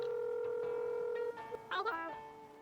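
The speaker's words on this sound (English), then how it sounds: "Making phone calls." Electronic telephone dialing in the video game Dave the Diver: a steady tone is followed by a short run of bright, warbling beeps that fade out.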